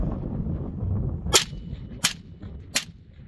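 Three sharp semi-automatic shots from a 20-inch AR-15 SPR rifle fired from a hilltop over a valley, evenly spaced about a second apart, loud and close, each with a brief crack and short tail over a low outdoor background.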